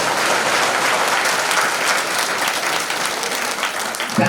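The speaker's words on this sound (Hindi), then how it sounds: "आपके यमराज के लिए जोरदार तालियों से स्वागत करें।" Loud, dense applause from an audience welcoming a performer playing Yamraj at a stage event, steady clapping throughout with crowd noise and no pauses.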